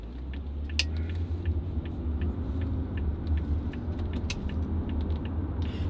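A Jaguar XJ40 car pulls onto a busy roundabout, giving a steady low engine rumble with faint creaks and mechanical noises from inside the cabin, and no one talks.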